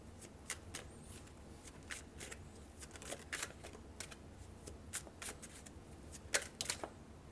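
Tarot cards shuffled by hand in a quiet room, a steady run of crisp riffling flicks and soft card slaps, close and fairly faint, with no talking.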